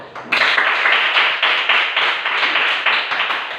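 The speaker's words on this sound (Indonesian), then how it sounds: "Tepuk tangan." A classroom of young pupils clap their hands together in steady, brisk rhythm for about three seconds, loud and close, with no talking over the clapping.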